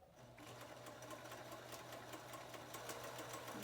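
A Pfaff 1473 sewing machine starts up and sews a stitch pattern, its steady close motor hum and quick repeating needle clicks running evenly for several seconds.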